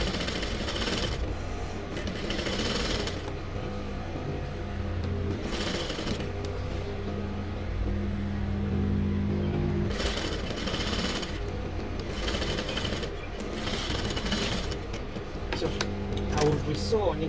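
Domestic sewing machine stitching the crotch seam of a jumpsuit, running in several bursts of a few seconds each with pauses between, moderately close, under steady background noise.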